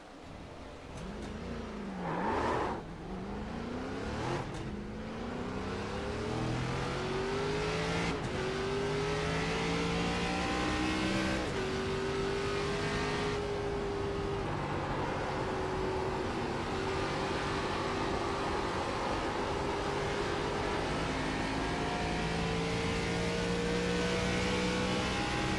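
A racing car engine in a video game race revs loudly and continuously, its pitch climbing through gear shifts with steady whining acceleration and no talk.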